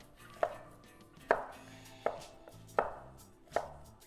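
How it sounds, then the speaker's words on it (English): A knife chops cremini mushrooms on a cutting board for creamy mushroom soup, five crisp, evenly spaced knocks, close and fairly quiet, with no talking. "I'm just going to give these a light chop."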